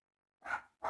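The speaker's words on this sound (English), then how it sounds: "That was my dog barking in the background." A domestic dog barks twice in the background, two short, muffled, distant woofs after a moment of silence, with no talk over them.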